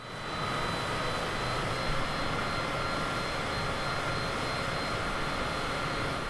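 A simulated aircraft engine in Microsoft Flight Simulator drones steadily at 65% power, a constant broadband roar without talk.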